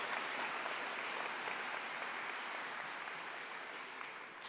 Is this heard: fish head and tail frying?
no